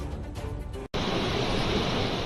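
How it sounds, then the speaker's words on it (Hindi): Broadband roaring water from Athirappilly Falls, steady and loud, with a brief dropout before a heavy continuous rush like a large waterfall. "पहाड़, जंगल, बादल और ये विशाल झरना,"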